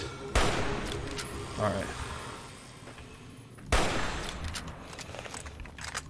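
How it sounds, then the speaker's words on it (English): Gunfire in Fallout: New Vegas, two sharp loud shots a few seconds apart with reverberant tails and a lighter shot between, while someone speaks briefly. "I'm getting good shots off on this guy right now."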